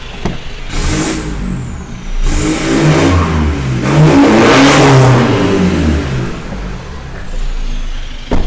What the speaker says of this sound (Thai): ลูกค้าเดี๋ยวแอดมินจะให้ ฟังเสียงท่อกันสักเล็กน้อยนะครับ